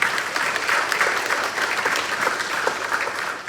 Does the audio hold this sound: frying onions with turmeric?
no